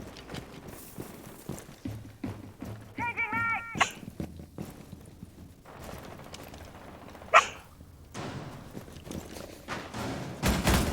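Dog barking inside a tactical multiplayer shooter round, heard as a few short bursts among game effects, footsteps and clatter, with a brief sharp impact partway through and no talk.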